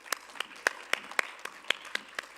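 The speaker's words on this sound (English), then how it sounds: "A big round of applause for her." An audience applauds speaker Chereese Ricketts at the WEF-2017 plenary session with sparse, distinct handclaps spaced unevenly, fairly faint and thin, like a small group clapping without any voices.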